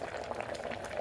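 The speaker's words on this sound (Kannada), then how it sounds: "ನೋಡಿ, ಕುದೀತಾ ಇದೆ ಕಾಯಿ ಸಾಸಿವೆ ಗೊಜ್ಜು." Cucumber and coconut mustard gojju, a tangy ground curry, bubbling at a steady boil in a pot, a continuous close burble of popping bubbles with no talk.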